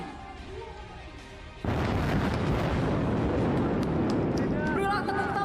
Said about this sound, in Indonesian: Inilah dia tembakan dahsyat Salvo Tank Leopard 2 RI.